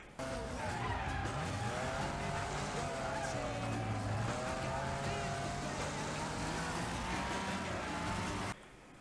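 A car in a racing video game handbrakes into a skid, with loud squealing tires and wavering engine tones sustained for several seconds before cutting off abruptly.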